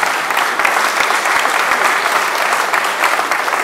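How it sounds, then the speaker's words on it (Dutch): A New Year's reception audience breaks into dense, loud applause, sustained and even throughout with no pauses, close and filling the room. "Dus mag ik een keihard applaus voor de sterkste man van Kampen."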